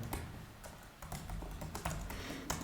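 Quick, uneven keystrokes tapped on a computer keyboard while entering login details in code, close and clear with short pauses between bursts and no talking.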